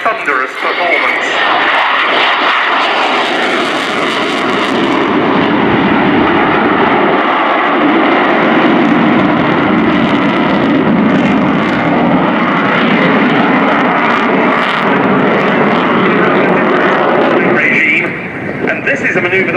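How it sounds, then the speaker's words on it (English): Twin Lyulka (Saturn) AL-31F turbofan engines of a Su-27 Flanker fighter jet roar loudly and continuously for a long stretch during a flying display at RIAT 2018, with someone talking over the noise. "the Lyulka, or now Saturn, AL-31F turbofan engines are certainly providing thunderous performance"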